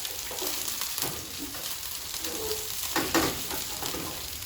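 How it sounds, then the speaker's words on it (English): Onion and scallion frying in a pot as the base for Jamaican brown stew chicken, a steady close crackling sizzle with a few louder pops and a brief spoon stir. "we're gonna let that fry up a little, guys, just to release some flavors"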